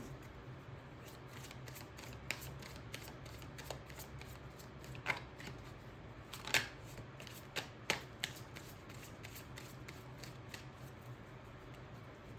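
Tarot cards being shuffled by hand: soft, quiet riffling with scattered sharper card snaps and flicks, close up, with no voices.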